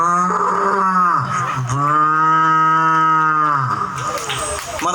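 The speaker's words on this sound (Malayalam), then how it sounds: "അടുത്തതായി നമ്മുടെ നാട്ടിലെ പശുവിന്റെ ശബ്ദം." A village cow moos in long, sustained, rich-toned calls, loud and close, one drawn-out low bellow after another with a brief break between them.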